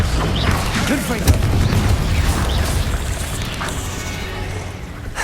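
A Confringo explosion spell blasts in the Hogwarts Legacy video game, giving a dense rumbling boom and crackle of debris that fills the scene, with a shouted voice mixed in.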